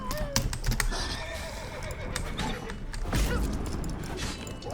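The horse Roach in The Witcher 3 neighs and whinnies loudly up close, with hoof clip-clops and busy game sounds layered throughout.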